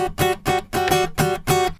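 A metal-style guitar chord played up an octave with the pinky, strummed five times in a steady rhythm, each strike bright and ringing briefly before the next, close and alone.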